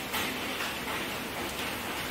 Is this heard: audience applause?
no